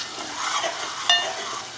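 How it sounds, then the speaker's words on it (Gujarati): Spice masala sizzles softly in a pan as it is stirred and cooked, a brief close hiss with one sharp metallic scrape partway through. "મસાલાને કૂક કરવાનો છે એટલે પ્રોપર આવી રીતે મિક્સ કરતા જઈએ"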